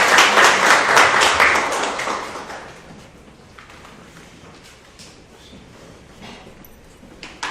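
Applause from an academic conference audience greeting the president of the Korean Social Studies Education Society, loud at first, then thinning to scattered claps that fade out by the end.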